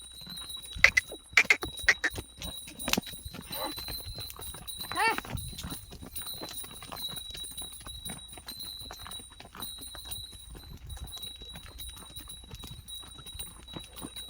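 Khillar bulls' hooves clopping on the ground as they trot, some sharp close hits early then a steadier patter, with a faint voice and a high steady whine in the background.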